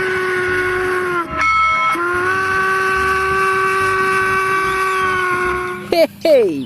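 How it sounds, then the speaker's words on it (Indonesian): A steam locomotive whistle blows a long, steady, loud tone with a short break, then ends in quick chuffing bursts. The sound comes from a toy train locomotive being cleaned. "Lokomotif kereta api."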